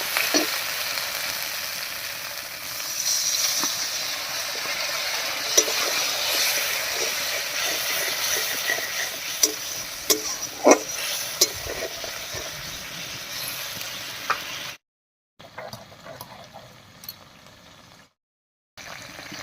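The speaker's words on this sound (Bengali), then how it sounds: "এবারে মশলা বাটা জল দিয়ে ভালো করে কষিয়ে নেব" Ground spice paste with water, salt, turmeric and garlic sizzles and spits in hot oil while being stirred, a steady close frying hiss with sharp spoon taps, then two abrupt silent gaps near the end.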